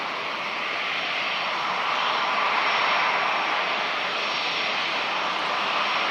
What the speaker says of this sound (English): That is just an amazing aircraft.